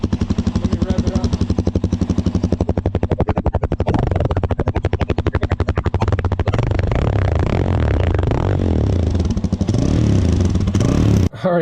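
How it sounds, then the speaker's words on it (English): Suzuki DRZ400 motorcycle on its stock exhaust, first idling with a steady thump, then revved up into a rising, rougher roar, held briefly and dropping back, loud and close. "Let me rev it up."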